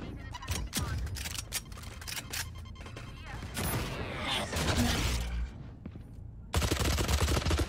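Bursts of gunfire in the Valorant video game crack out in rapid clusters, mixed with mechanical clicks and a reload, with loud rattling volleys near the end.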